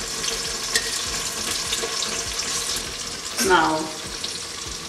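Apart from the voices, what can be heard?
onion frying in oil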